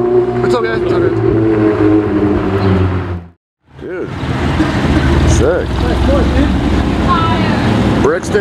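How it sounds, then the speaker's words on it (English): A white Ferrari 488 with its V8 engine revving, loud and close, with a roaring burst, a brief drop into silence, then another sustained, throaty rev, while people talk over it. "One of the most famous Ferrari V8s on my channel."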